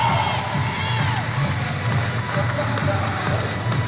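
Wrestling crowd at a New Level Pro indie show cheers and shouts loudly and continuously, a dense roar of voices with whoops throughout, with no pauses.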